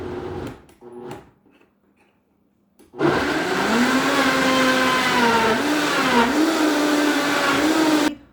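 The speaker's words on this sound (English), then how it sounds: "I'll start blending on parts." A few brief clicks and short bursts, then a loud blender blending fruit puree kicks in at about three seconds and whirs steadily, its pitch dipping and rising as it churns.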